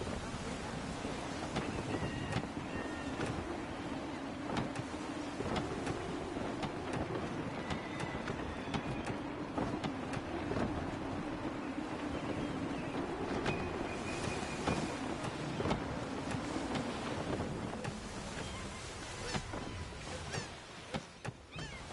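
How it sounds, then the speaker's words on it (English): Steady wind and creaking rigging as a ship sails under gusty conditions in Assassin's Creed III, a continuous broadband rush with low rumble and scattered clicks, no talk. "Gusty winds can be difficult to manage."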